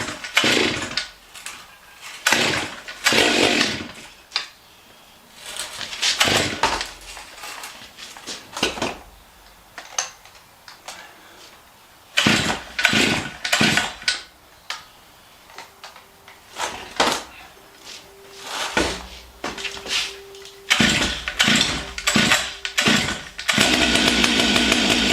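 A chainsaw with an electronic carburetor is cold-started and its choke is taken off. Repeated short bursts of the engine catching come between quiet gaps, then the saw runs in longer revving stretches, loud and close.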